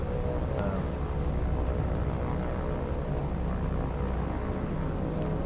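Aircraft engines drone steadily in a War on the Sea naval battle game, a constant low rumble holding at even loudness for the whole stretch with no talk over it.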